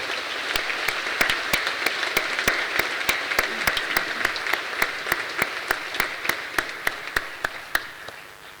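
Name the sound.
audience applause at university graduation ceremony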